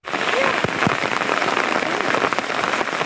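Steady rain falls over a hillside village, a dense, continuous patter close by with a few louder drips, and faint voices murmuring underneath.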